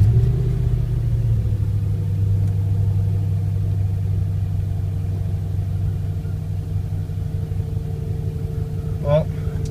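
Engine of a Lincoln LS car while driving, being checked for misfire after cleaning, a steady low rumbling drone heard from inside the car, continuous and fairly loud with no clear break in rhythm.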